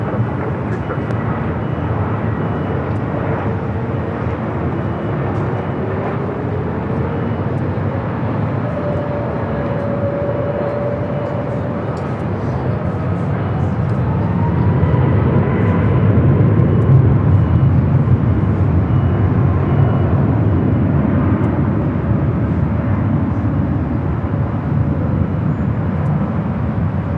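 A Southwest airliner takes off from runway 24 left at LAX, a loud, broad jet roar heard from a distance that swells partway through, with faint radio talk over it.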